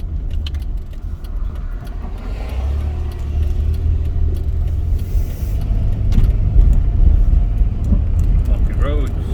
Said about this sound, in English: Bumpy roads.